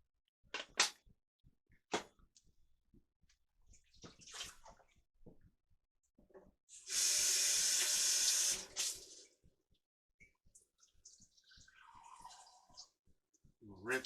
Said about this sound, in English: We'll rinse this measuring cup out.